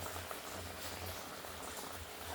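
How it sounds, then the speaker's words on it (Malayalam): Fish curry in a clay pot still bubbling after coming off the heat, a faint, even low simmer with soft bubbling throughout. "വാങ്ങി വെച്ചിട്ടും തിളക്കുന്നുണ്ടല്ലേ"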